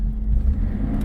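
A 1982 Datsun 280ZX engine accelerating on residential streets, heard from inside the car as a steady, full low rumble with a slight rise in effort, continuous and close throughout.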